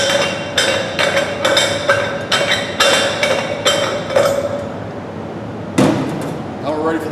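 Repeated sharp metallic taps knocking a gas cylinder cap loose while setting up a MIG welder, about nine evenly spaced close knocks followed by a louder clank and some shuffling.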